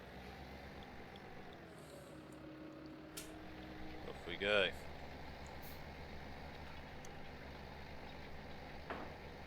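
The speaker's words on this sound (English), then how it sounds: "Tractor pulls the cultivator quite well." Tractor pulling a Kuhn cultivator across a field in Farming Simulator 17, a steady low engine drone throughout with a brief louder swell, under a man's short remark.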